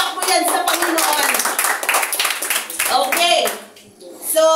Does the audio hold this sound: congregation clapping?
yes